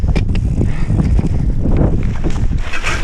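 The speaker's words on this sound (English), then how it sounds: "A bit windy." Wind rushes steadily and loudly across the microphone on a mountain bike trail in Serra da Arrábida near São Luís, with faint rattles of the bike underneath.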